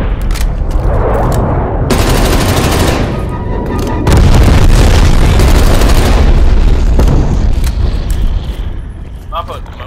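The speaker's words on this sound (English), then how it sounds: "Bomb strike incoming." Bomb strike explosions and rapid gunfire in a video game firefight, loud and dense, with sustained bursts of automatic fire and heavy booms layered on top of each other, ending in a few scattered shots and faint game chatter.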